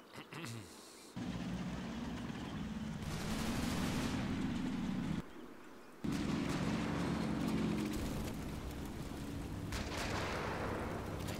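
Gunfire and artillery in the World War II strategy game Combat Mission Battle for Italy, a dense, continuous battle roar with bursts and booming blasts, broken by two short lulls, and no voices.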